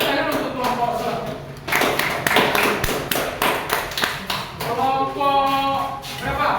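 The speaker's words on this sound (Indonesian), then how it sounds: "tepuk tangan untuk kelompok satu" Classroom applause for group one of students, dense clapping taps in two bursts separated by a brief lull, with voices murmuring underneath throughout.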